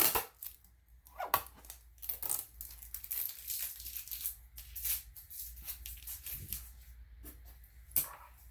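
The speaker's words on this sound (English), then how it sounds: "take off all the tape, all the blue tape" Blue tape ripped off a newly unboxed Brother PE 800 sewing machine, a series of close, crackly tearing strips and crinkles coming in quick bursts with brief pauses.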